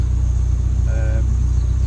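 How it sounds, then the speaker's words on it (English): A Peugeot car engine idles steadily after a jump start, a low continuous rumble with a brief higher tonal whine in the middle of the short stretch. "The car is up and running."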